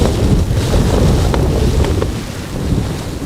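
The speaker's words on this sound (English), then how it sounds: "Pretty gusty here at times." Gusty wind buffets an outdoor spot at Amsterdam Schiphol Airport, a loud, close, rumbling roar that surges and eases in uneven gusts with no voices.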